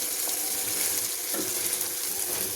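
Banana flower and grated coconut being turned in a pan, a dense, even sizzle with faint scraping from stirring, heard close and steady throughout.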